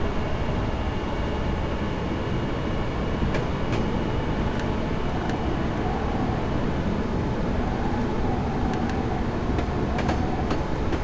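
A train in Train Simulator 2015 runs steadily on the Manchester London Road to Sheffield route. Its rumble is continuous and fairly loud, with faint intermittent clicks and squeaks over the top.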